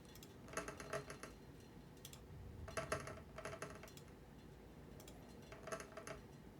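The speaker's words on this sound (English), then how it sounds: "A little bit of dice ASMR." Dice roll in a few short bursts of clattering clicks separated by quiet gaps, close and faint, with no talking.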